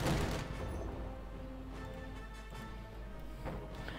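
Rapid autocannon fire from a 222 armored car in Company of Heroes 2, a dense, continuous fusillade of bursts at moderate distance, steady throughout with a stronger opening.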